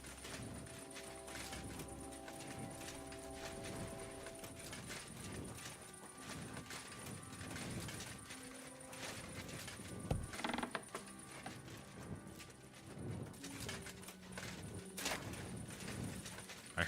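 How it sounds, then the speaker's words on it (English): Horse hooves clip-clop in the medieval game Kingdom Come Deliverance II, a steady stream of faint, repeated hoof knocks mixed with creaking tack and mechanical ambience throughout. "I heard a horse."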